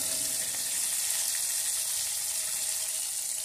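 Breaded chicken wings seasoned with calabrese pepper cooking with a dense, even hiss of sizzling that holds steady for a few seconds, close up, with no voices over it.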